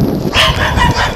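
A dog barks in short, loud bursts amid the noise of a cattle drive passing through town.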